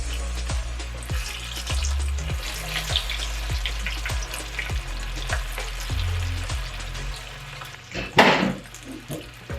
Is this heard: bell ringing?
no